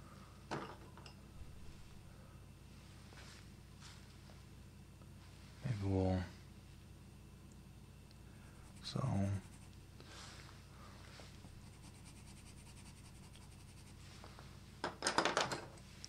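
Pencil drawing lines on paper for a perspective sketch of a box divided into planes, faint scratchy strokes with two clearer drawn lines and a short burst of quick scribbling near the end, under a quiet room hum.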